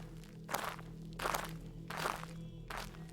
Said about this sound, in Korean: 저벅저벅하고 여러 사람들의 발소리가 멀리서 들려왔습니다.